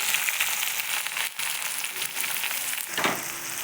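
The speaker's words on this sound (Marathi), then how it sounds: "टोमॅटो पण तेलामध्ये मस्त असं छान परतून घेऊयात" Tomatoes sautéing in hot oil after garlic-coriander paste, for dhaba-style chole: a steady, close, broadband sizzle running throughout, with a brief dip and a slightly louder crackling burst near the end.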